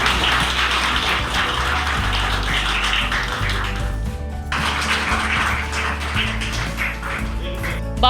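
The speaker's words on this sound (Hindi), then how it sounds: "जोरदार तालियों से स्वागत।" An indoor crowd at a panchayat event bursts into loud, dense applause to welcome a guest, clapping continuously, pausing briefly midway, then surging again with equal force.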